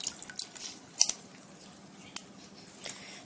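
A lemon is squeezed over artichokes in a kitchen, giving soft wet squishes and a few scattered drips and splashes, faint and close, with brief sharper clicks between.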